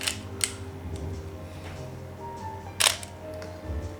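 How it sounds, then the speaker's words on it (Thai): An SLR camera shutter fires in a few sharp, quiet clicks spaced apart, heard close up against a low hum in an indoor room. "เดี๋ ยวให้ฟังเสียงชัตเตอร์เนาะขออีกนะขึ้นชัตเตอร์มึง"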